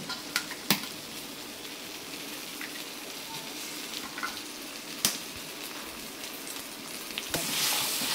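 Four eggs mixed into a spiced samosa filling in a hot pan, a continuous sizzle with occasional sharp utensil knocks against the pan, no voices.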